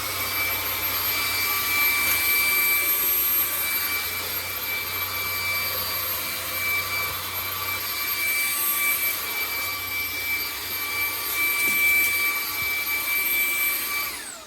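A Comfyer Petrel cordless stick vacuum cleaner runs at max speed with a steady, loud, hissing whine and airy rush that holds constant throughout, close to the listener with no talking.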